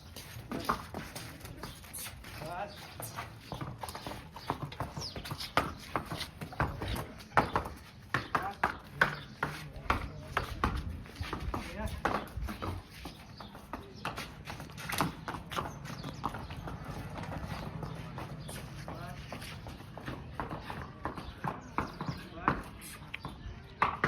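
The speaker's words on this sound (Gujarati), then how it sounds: "ફાઇનલી મિત્રો આપણે વાડીએ ઘોડો લઈને આવી ગયા છીએ." A horse moves around on a farm, its hooves giving irregular close thuds and clops scattered across the scene, with a person talking over them.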